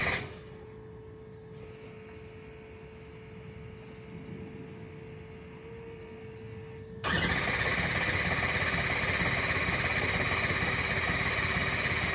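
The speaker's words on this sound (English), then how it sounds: "getting ready to set you up and see how long she takes to crank" A 6.0 Powerstroke diesel engine cranks steadily with a faint whine, then abruptly catches and settles into a loud, sustained run close by.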